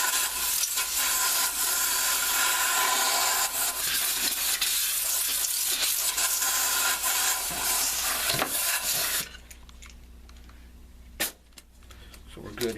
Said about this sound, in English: We'll grab our air compressor one more time.